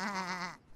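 A cartoon sheep gives a single short, wavering bleat, close and fairly soft, followed by quiet.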